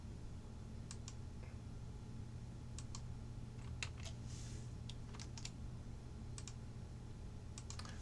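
A computer keyboard and mouse give soft, sparse clicks and taps, scattered through a quiet room with a low steady background hum.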